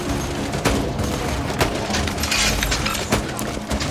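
Gunfire in the video game Borderlands 2 during a co-op session on Xbox 360: dense, continuous bursts of shots and impacts with scattered louder booms, steady and loud throughout.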